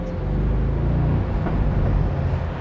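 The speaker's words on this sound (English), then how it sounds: "I mean, you listen to that engine." A BMW M850i convertible's big engine gives a low, steady rumble at slow road speed, a continuous deep drone with no talk over it.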